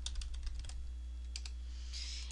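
Quick, light clicking of computer keyboard keys while entering items into an Excel 2007 spreadsheet, a few short bursts of close, soft taps over a steady low hum.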